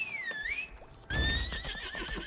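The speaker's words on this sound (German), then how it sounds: "Pferd." A horse in the video game Lost Ark lets out a whinny, rising and falling. After a brief pause, a second neigh sounds over a soft shuffle of hooves.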